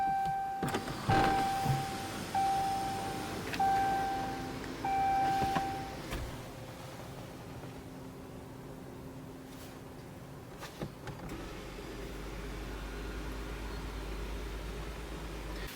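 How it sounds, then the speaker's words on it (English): Electric sunroof on a 2014/2015 RAM 1500 EcoDiesel cab running, a steady motor whir with short stop-start segments in the first six seconds, then a quieter interior hum with a low rumble near the end; no talking. "we have a fully functional sunroof, electronic sunroof."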